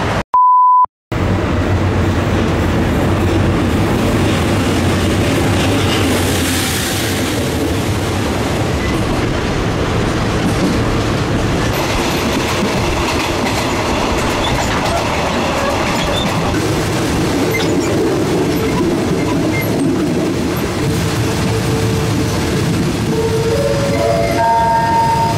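A train pulling into a railway station in Thailand near Bangkok, with a steady low rumble and rolling rail noise throughout, a brief high beep near the start and faint squealing tones toward the end.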